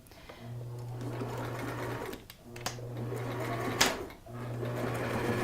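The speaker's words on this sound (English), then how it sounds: "we're going to stitch that together with a straight stitch" A sewing machine runs a straight stitch through turban fabric in three steady bursts of humming motor, with brief pauses and a small clack between runs, close up and without talk.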